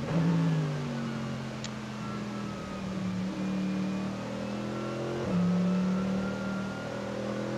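A Mercedes-AMG GT race car running at an endurance race on the Nürburgring Nordschleife, heard as a steady distant engine drone that rises and falls through gear changes, with no one speaking.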